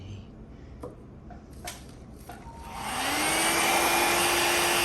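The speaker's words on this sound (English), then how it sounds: "I know the dryer is getting in the way some" A dryer blowing on alcohol ink artwork switches on partway through, its whirring airflow rising quickly into a loud, steady rushing hum that holds to the end.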